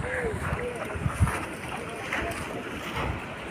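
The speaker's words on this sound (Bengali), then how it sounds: "ডাউকি নদীতে আমরা নৌকায় করে ঘুরছি।" A boat moves along the Dawki river in Meghalaya, with steady wind buffeting the microphone and faint water and engine rumble throughout.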